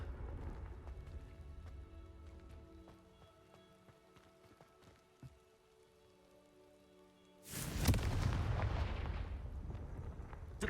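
Confringo fire-blast spell in Hogwarts Legacy, a sudden loud broadband explosion that bursts in late and roars on as a sustained rumbling blast after quieter game ambience.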